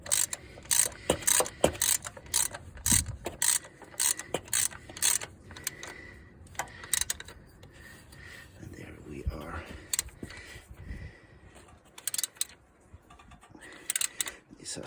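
A tensioner bolt for the alternator belt being tightened on a Škoda Fabia 1.2 6v engine, heard as repeated sharp ratchet clicks in quick bursts close by, with someone talking intermittently over them.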